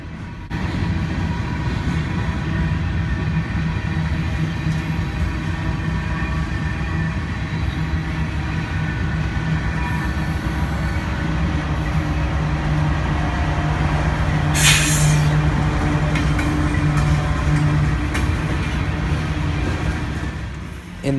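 A mixed freight train rolls past steadily for the whole stretch, with a GE AC44CW locomotive working in the middle of the consist, a continuous loud rumble of wheels and cars, a brief bright squeal rising partway through.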